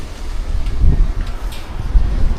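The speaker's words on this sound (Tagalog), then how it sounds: "Malakas ang hangin o." Strong wind roars across the microphone in a steady low rumble with occasional heavier gusts; no one speaks.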